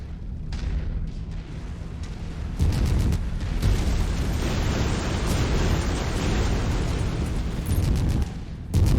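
A destroyed target exploding in a combat game, a sustained roaring blast with crackling debris that swells and rumbles loudly for several seconds.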